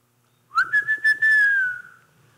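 A person whistles a short tune outdoors. Four quick rising notes lead into one long sustained note that slowly falls and fades, heard clearly alone.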